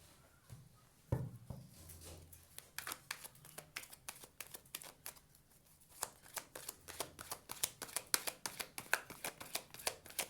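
Tarot cards are shuffled for a reading in a long run of quick, crisp riffling clicks that grow denser and more rhythmic, close up and quiet, with no talking.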